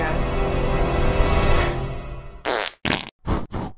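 Cartoonish hand-fart sound effects from a game kill announcement: a long sustained blast fading out, followed by four short, loud, separated bursts in quick succession, with no talking.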